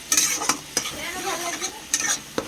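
Spice masala frying in a pan on a low flame, stirred with a utensil that scrapes and clinks in a few distinct strokes over a soft steady sizzle, close and clear, no talk.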